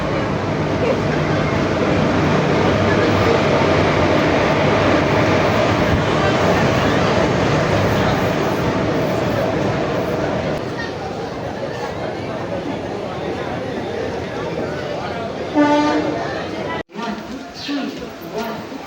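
A train departs from NJP railway station with a sustained loud rumble of rolling wagons that gradually thins, followed by a rattling clatter and a sharp knock near the end.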